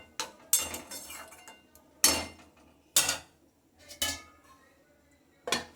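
A metal lid going onto a pot of chicken, heard as a series of sharp clinks and clanks at irregular intervals, close and fairly quiet, with no talking.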